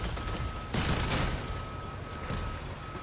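Gunfire in the vehicle combat game Crossout, a couple of loud, close bursts of shooting over continuous battle noise and a steady engine tone, with no talking.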